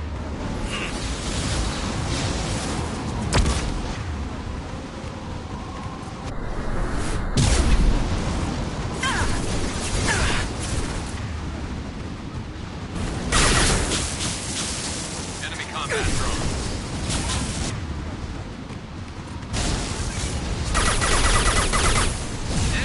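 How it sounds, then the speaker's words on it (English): Flashbang grenades and gunfire in the video game Mass Effect 2, dense rumbling blasts and bursts of shooting running continuously through a loud combat scene, with voices talking over the action. "Watch out, flashbangs!"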